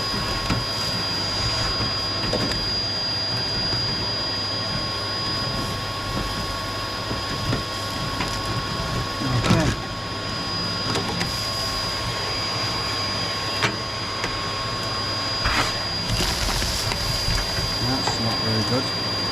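A vacuum cleaner drones steadily while sweeping the back-outlet flue of a multifuel stove, a constant whining hiss with a few bumps and knocks over it.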